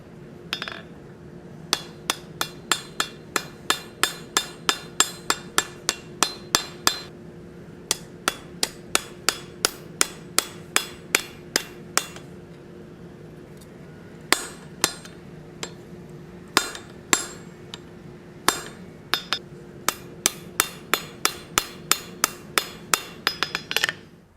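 Steel hammer blows ring against hot metal on an anvil while forging a French repoussé stake fuller, dozens of sharp metallic strikes in rapid, steady runs with brief pauses between bursts.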